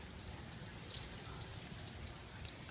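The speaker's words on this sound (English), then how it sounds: "This is a good storm." Heavy rain pours down steadily in a summer storm, a dense even hiss with scattered drop impacts and no voices, heard from inside a stopped car.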